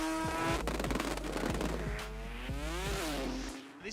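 Mazda RX3 rotary drag race car launching hard at an Australian drag racing event, a loud close engine roar with rapid rising gear-change sweeps through second and third, then cutting off near the end.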